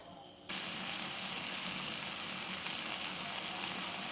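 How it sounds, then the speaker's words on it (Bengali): Potatoes for Kashmiri dum aloo fry in masala in a pan. A steady, dense sizzle starts abruptly and keeps going close up and loud, with no one talking. "আমাদের আলুটা কষানোটা কীরকম জোরদার হয়েছে"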